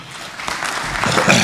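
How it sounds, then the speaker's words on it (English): An audience at a church general assembly breaks into clapping: a short burst of many hands that swells slightly toward the end. "Give them a clap."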